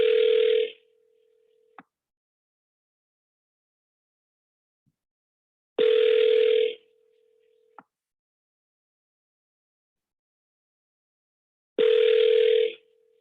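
A telephone call to a business rings out three times through the handset, each ring a short buzzing tone burst followed by several seconds of silence in a slow, regular cycle.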